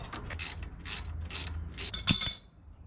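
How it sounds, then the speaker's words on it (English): Ratchet wrench loosening the top bolt on a car's rear brake caliper during a DIY pad change, a series of quick close clicking bursts with a louder metallic clack near the end. "we're just gonna undo this top bolt here, and that'll allow this, the back of the caliper to flop down"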